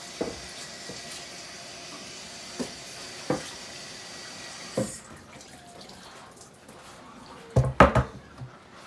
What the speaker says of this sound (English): Let me rinse my cutting board off